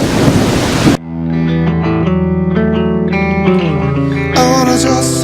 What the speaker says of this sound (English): And it's thunder and lightning out.